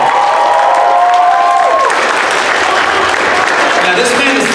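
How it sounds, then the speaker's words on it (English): Loud convention panel crowd at Youmacon 2018 applauding and cheering continuously, with whoops and voices mixed into the dense clapping throughout. "Another round of applause for that"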